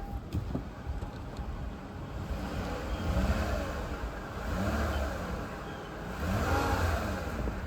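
A 2010 Lexus ES 350 with a 3.5 V6 idles steadily, rising in three gentle swells as the engine is revved, a close and even hum with no talking.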